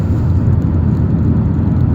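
Interior of a new car being driven: a steady, loud low rumble of road and engine noise fills the cabin throughout, with no talk.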